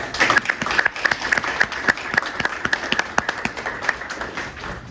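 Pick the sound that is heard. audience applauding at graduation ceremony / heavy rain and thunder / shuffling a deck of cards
audience applauding at graduation ceremony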